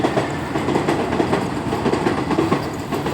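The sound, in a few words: train passing by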